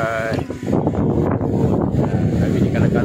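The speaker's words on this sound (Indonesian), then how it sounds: "Angin kuat, nampak tu angin kuat." Strong wind buffets the microphone at a beach by Kala-Kala Long Beach Resort chalets, a loud continuous roar with gusty bursts, while people talk over it.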